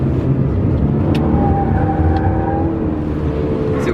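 A 2017 Honda Civic EXL with a CVT cornering hard with traction control on: steady, loud engine drone with a rising whine and tonal hum throughout, plus faint tire noise, no talk.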